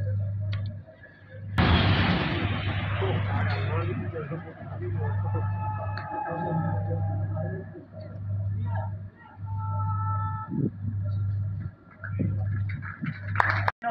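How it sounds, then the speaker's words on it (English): Military artillery fire lands on a target area: one sudden loud blast rolls into a long rumbling decay, followed by a steady low engine-like drone and scattered smaller pops. "Please look at the devastating effects caused by effective delivery of firepower on the objective."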